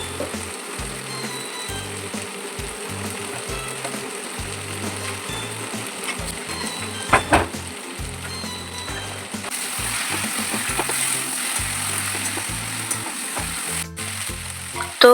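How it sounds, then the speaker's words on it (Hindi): Potatoes and taro (arbi) frying in a pan give a steady sizzle with scattered clinks and stirring scrapes, heard alone and fairly close throughout. "ये देखिए इस तरीके से अच्छे से हम आलू और अरबी को फ्राई कर लेंगे।"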